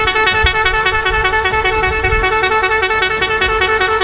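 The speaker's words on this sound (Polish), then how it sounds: "5-6 to słyszy cała okolica, słuchajcie, ten klakson." A 170 dB horn sounds extremely loud and close, a sustained bright tone that pulses in rapid regular beats for about four seconds, loud throughout with no break.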